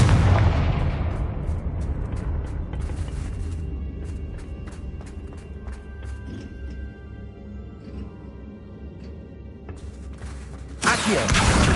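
Confringo blasting spell going off in Hogwarts Legacy: a loud, booming burst that decays into a long rumbling tail with scattered crackles, then a second sharp blast near the end.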